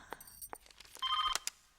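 A telephone rings with short, bright electronic bell tones, faint and a little distant, repeating in quick bursts over under two seconds.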